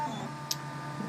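A Printrbot Simple 3D printer runs quietly, a steady low whir and hum with a single faint tick midway.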